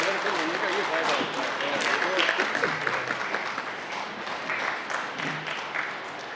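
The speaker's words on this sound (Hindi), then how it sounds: "तालियां" An audience at a national ballet and dance festival applauds continuously, a broad wash of clapping with crowd voices murmuring underneath.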